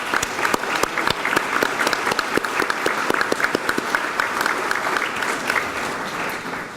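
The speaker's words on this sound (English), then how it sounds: "I think we owe him a round of applause" An awards-ceremony audience applauds, dense steady clapping from a crowd that holds for several seconds before tapering slightly, with no speech over it.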